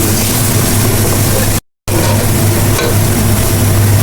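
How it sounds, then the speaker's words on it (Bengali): Onions fry loudly and steadily in hot oil in a pan, a dense continuous sizzle with one brief dropout partway through. "পেঁয়াজগুলা ভালো করে ভেজে নেব"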